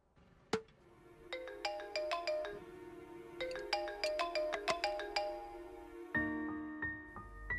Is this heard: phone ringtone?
yes